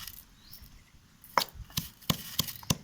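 Green chillies pounded with salt in a mortar for a ridged gourd chutney, five or six sharp, close thuds coming at an uneven pace after a quiet start, with no talking.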